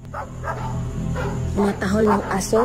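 Dogs bark and yip in quick bursts, fairly close, over a steady background hum, with some higher whining yelps toward the end.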